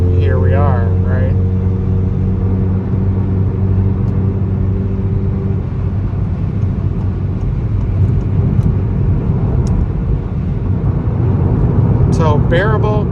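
Steady, loud droning rumble of a car exhaust fitted with a TCR muffler and downpipe, cruising on a highway, with road and cabin noise throughout and someone talking over it near the start and end.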